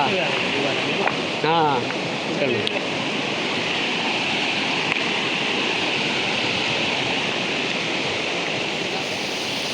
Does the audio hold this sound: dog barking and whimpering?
no